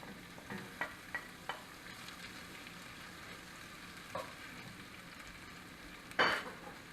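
Onions frying in a pan for tri tip beef stroganoff, a low steady sizzle under a few soft clicks and scrapes of stirring, ending in one louder scrape of the utensil against the pan.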